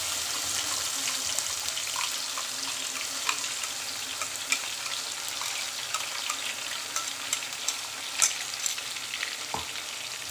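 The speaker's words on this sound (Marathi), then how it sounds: "त्याला छान परतून घ्यायचं। छान तेलामध्ये त्याला होऊ द्यायचं" A paste of green chili, onion, tomato, coriander and mint leaves frying in oil for Hyderabadi green chicken: a steady, close sizzle with scattered sharp pops and crackles throughout, and no voices.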